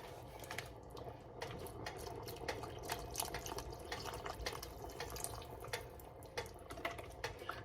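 Beef broth poured from a 32-ounce container into a pan, a quiet, continuous trickling and splashing of liquid with small drip-like spatters, heard close up.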